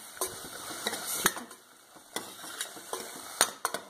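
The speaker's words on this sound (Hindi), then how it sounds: "और ये मैं मिक्स कर रही हूँ" Spinach seasoned with garam masala is stirred in a pan, with a spoon scraping and clinking against the metal in irregular close taps over a soft steady sizzle.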